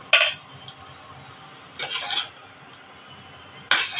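Metal spatula strikes and scrapes in a pan as eggs are mixed into homemade egg chow mein, three short clanking bursts separated by quiet stretches over a low kitchen background hum.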